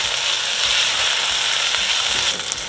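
Meat browning in hot vegetable oil in a pot on the stove produces a loud, continuous, close sizzle that holds steady throughout, with faint clinks near the end.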